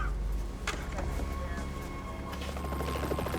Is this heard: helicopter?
yes